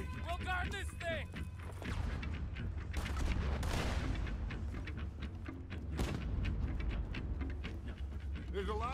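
Video game gunfire rattles in dense, continuous bursts with booming blasts layered over a loud wash of battle noise, while voices talk over the top.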